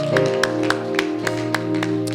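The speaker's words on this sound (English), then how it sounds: "That deserves a big round of applause" Clapping at an induction ceremony at Freedom Park's gallery of leaders, a series of sharp, evenly spaced claps over a sustained tonal drone, with a few hands rather than a full crowd.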